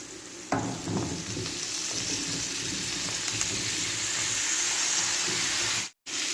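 Kalabasa (squash) drops into a hot pan with a sudden burst of sizzle, then a dense, steady frying hiss carries on evenly and cuts out abruptly near the end.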